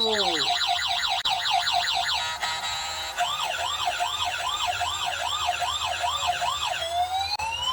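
A toy remote-control ambulance plays a loud electronic siren, with warbling and wailing tones that switch patterns over the length of the clip. The siren runs continuously and close up, with no voices.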